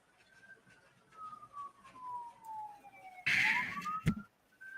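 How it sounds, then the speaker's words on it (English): A wailing siren sweeps slowly down and back up in pitch, moderately distant, with a short burst of louder noise and a thump partway through. "I don't know why I hear sirens right now"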